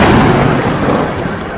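A continuous, loud roar of blast noise fills the air during an attack on the Nur Khan air base in Pakistan, dense and rumbling without a break throughout.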